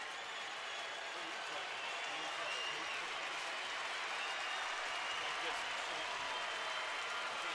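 A baseball stadium crowd cheers and applauds in a steady, broad roar throughout, with a commentator's voice audible underneath.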